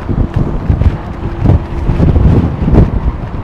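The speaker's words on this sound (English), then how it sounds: "Beverly likes the sound of wind." Gusty wind buffets an outdoor microphone at London Heathrow Airport. The roar is loud and continuous, rising and falling in bursts across the whole stretch, with no voices.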